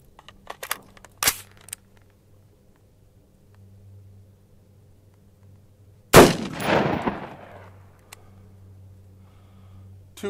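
Reduced-velocity M855A1 round fired from a 14.5-inch, 1-7 twist M4-style rifle at an outdoor range, one sharp, loud shot with a rumbling decay, preceded by a few faint clicks and knocks.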